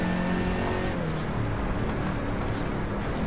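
A car downshifting in the Driveclub racing game: a steady, fairly quiet engine drone with a brief drop and shift in tone, no speech over it.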